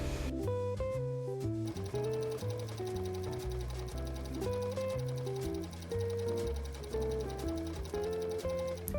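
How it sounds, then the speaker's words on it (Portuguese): A sewing machine stitches the side seams of a vintage mermaid-style dress, a quiet, fast, even run of mechanical ticking that keeps going with tonal sounds layered over it. "Fiz todas as costuras laterais com máquina já"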